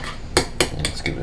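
A utensil stirring homemade tartar sauce with lemon juice in a bowl, giving four or five quick, close clinks and scrapes in an uneven rhythm over about a second.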